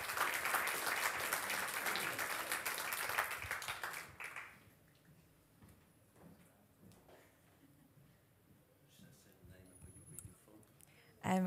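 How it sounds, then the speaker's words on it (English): A church congregation claps for a scripture reader at a Sunday service, with loud sustained applause for about four seconds that then drops away to quiet room sounds and faint voices. "Let's give the Lord a clap offering for her life."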